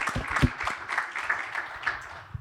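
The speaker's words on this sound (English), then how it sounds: "I feel like that almost deserves a round of applause" An audience gives a short round of applause, a dense patter of many hands clapping at moderate volume with no voices over it.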